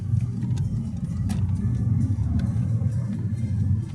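A Skoda Octavia 1.8 TSI running on LPG pulls away, its engine giving a steady low rumble with a slight rise, heard from inside the car with no speech.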